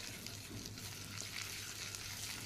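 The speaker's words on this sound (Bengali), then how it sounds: "আরও কিছুটা সর্ষের তেল দিয়ে তাতে 1 টেবিল স্পুনের মতন হলুদ গুঁড়ো দিয়ে তেলে ভালো করে হলুদ গুঁড়োটা ভেজে নিলাম" Turmeric powder frying in mustard oil for a paneer and cauliflower curry, a quiet, even sizzle with a faint low hum underneath, continuous and close.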